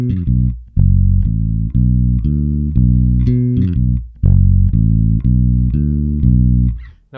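Electric bass plays a bass line in 7, a loud, repeating riff of distinct plucked notes with steady rhythmic groupings and no talking.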